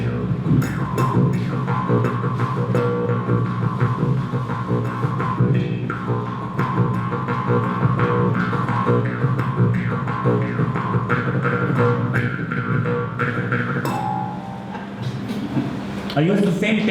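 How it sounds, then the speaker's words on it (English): Indian morsing, a jaw harp, played in its lower register: a steady, close, buzzing twang with shifting overtones that holds for about seventeen seconds and changes briefly near the end. "Same morsing or morchang from India is called Jewish harp."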